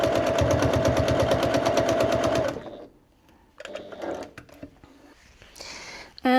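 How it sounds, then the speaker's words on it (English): A bernette 08 straight-stitch sewing machine runs steadily for about two and a half seconds, its rapid needle chatter loud and close while stitching through fabric, followed by quieter handling clicks and shorter bursts of stitching. "and then we'll sew through these"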